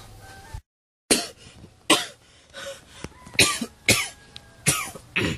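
A person coughs repeatedly in short, harsh bursts, about six or seven coughs spaced unevenly, close and fairly loud.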